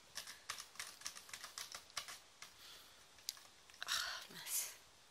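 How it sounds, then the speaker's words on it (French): A spoon taps on a sheet to shake triops food loose, a series of light, close, irregular clicks, very quiet, with a soft voice briefly in between. "Et après moi avec la cuillère, en fait je tape pour faire tomber."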